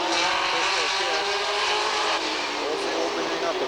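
Super stock race cars roar down the straight at Redwood Empire Raceway in 1985, a steady, fairly loud engine drone heard from a distance, with a commentator talking over it throughout.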